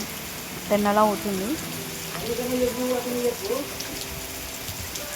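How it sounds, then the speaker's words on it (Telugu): Heavy, nonstop rain pours steadily throughout during a family trip to Medaram, with voices talking over it in the middle. "నాన్ స్టాప్గా చాలా గట్టిగా కొడుతుంది వర్షం."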